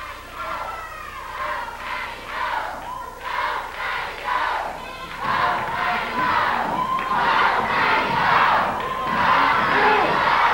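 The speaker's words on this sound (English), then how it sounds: "Well, you can hear quite a chant by the crowd." Rhythmic crowd chant from a packed wrestling arena during a Championship Wrestling from Florida bout, loud massed voices rising and falling in steady bursts throughout, with shouts and cheers mixed in.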